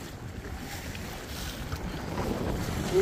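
A Skeeter WX 2060 boat running through choppy waves on Green Bay, with steady wind rush and water slapping against the hull that builds slightly toward the end, no voices.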